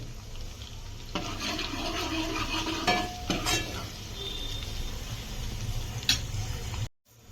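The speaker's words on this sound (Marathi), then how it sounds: "कांदा फ्राय व्हायला लागलाय" Steady frying sizzle of onions in a pan with occasional stirring scrapes, fairly close and continuous, cutting off abruptly near the end.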